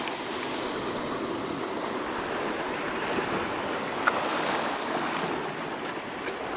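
Waves breaking on the Lake Superior shore make a steady, loud wash of whitewater surf with gusty wind buffeting the microphone.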